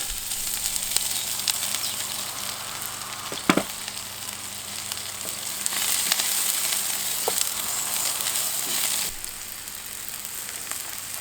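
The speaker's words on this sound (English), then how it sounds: "I'm simply going to fry off some onions and garlic." Chopped onion and a garlic clove fry in vegetable oil over an outdoor firepit, a steady close sizzle that runs on without a break, with a few brief knocks and stirs now and then.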